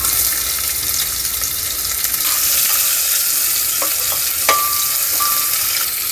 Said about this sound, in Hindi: अब इसमें हम प्याज डाल दे रहे हैं।